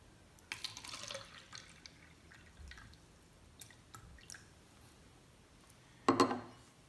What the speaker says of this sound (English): I'm going to pour some water into the styrofoam cup.